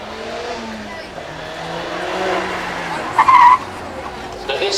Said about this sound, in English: Next up then we have our 680 brake horsepower Ford Focus RS.